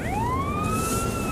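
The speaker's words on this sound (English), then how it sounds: "Oh, there's another police car." A police car siren wails with rising, sweeping tones, fairly close and steady for a moment over a low background rumble.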